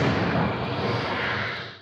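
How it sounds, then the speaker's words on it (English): Dense, roaring rumble of propane tanks exploding and burning during a fire at a propane business in Phoenix, a sustained loud wash of sound heard from a distance with no talking. "the sights and sounds of propane tank explosions felt by many Thursday afternoon"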